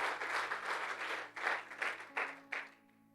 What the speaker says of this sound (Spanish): Vamos a iniciar con un aplauso fuerte al Señor